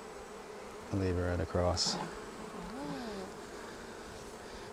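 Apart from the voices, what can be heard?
honey bees buzzing around an opened hive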